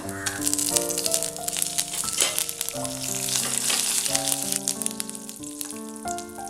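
Curry leaves and cashews fry in hot oil while making semolina balls, a continuous close sizzle with crackles and stirring rattles, with background music playing over it.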